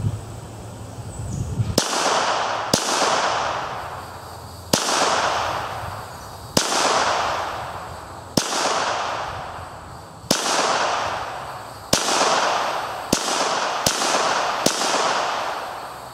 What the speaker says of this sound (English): It'll fire all 10 of them, and I'm fixing to show you that right now.